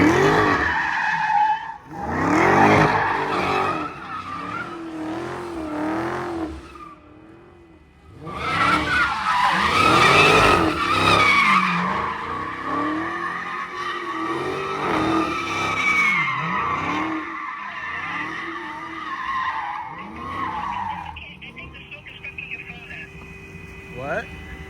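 A Dodge Hellcat Redeye slides with its tires skidding and squealing in long, loud stretches. Voices and other sounds mix in throughout, and there is a brief lull near the start.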